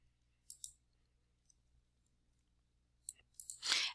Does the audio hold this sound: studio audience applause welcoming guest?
no